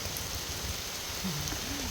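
Rain falls steadily as a broadband patter throughout, moderately loud and continuous, with no talking.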